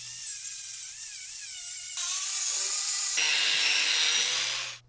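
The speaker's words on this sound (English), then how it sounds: "I'm using a wire wheel to remove the surface rust, as well as the paint and filler surrounding the area" A wire wheel on a power tool grinds surface rust, paint and filler off a rusty Mercedes windscreen panel, a loud continuous whine that rises in pitch and harshness in steps before cutting off at the end.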